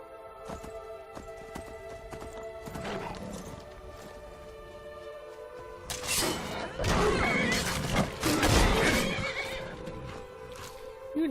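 A horse in the Skyrim video game whinnies and snorts loudly, with hooves clattering and a burst of combat noise in the middle of the stretch.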